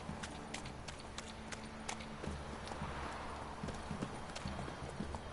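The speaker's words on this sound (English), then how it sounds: "Where the hell is my horse going?" Steady clip-clop of horse hooves at a running pace over a low ambient hum, with a faint whinny near the end; no voices. From the video game The Witcher 3: Wild Hunt.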